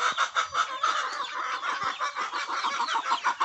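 White hen that has just finished brooding, clucking close by among chicks, with a dense run of soft repeated clucks and high peeping calls.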